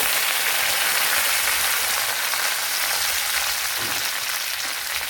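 Mustard seeds, dried chili and curry leaves frying in hot coconut oil, giving a dense, continuous hissing crackle that stays loud and even from start to finish.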